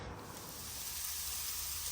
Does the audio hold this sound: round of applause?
no